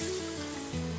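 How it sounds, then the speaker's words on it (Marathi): Water poured into a hot pan on a gas stove, a steady hiss and sizzle that holds level, shifts in tone partway through, then carries on close and loud. "एका हातामध्ये झाकण घ्यायचं आणि असं पाणी ओतायचं, कारण काय पाणी कधी कधी अंगावर उडतं"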